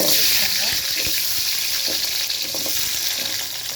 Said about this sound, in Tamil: கடாயில் எண்ணெய் சேர்த்தாச்சு எண்ணெய் சேர்த்துட்டு வந்து இந்த வெங்காயத்தை